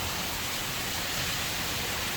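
Heavy rain pours steadily during a hurricane as floodwater rises, a dense, constant wash of noise with no pauses or distinct drops.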